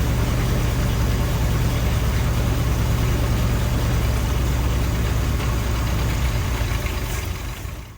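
A 1946 Willys CJ2a, revived after sitting in a forest for over 40 years, idles with its warmed engine in a loud, steady, low rumble that runs continuously before tapering off at the end.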